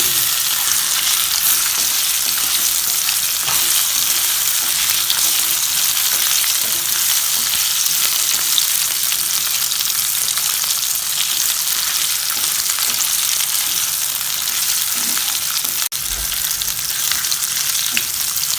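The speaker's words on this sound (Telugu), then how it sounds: "ఇవి ఒక 5 నిమిషాలు మీడియం ఫ్లేమ్లో ఫ్రై చేసుకోవాలి." Boiled baby potatoes frying in a pan on medium flame for chilli garlic potatoes, a loud, dense, continuous sizzle with a brief stir, close up and without talking.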